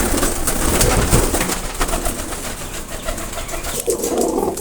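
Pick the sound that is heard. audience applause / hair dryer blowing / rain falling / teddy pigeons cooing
teddy pigeons cooing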